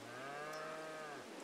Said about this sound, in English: Cattle are starving.